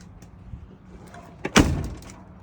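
A car's driver door is pushed shut, giving a single solid thud with a brief rattle that trails off, close by, after a quiet moment of handling.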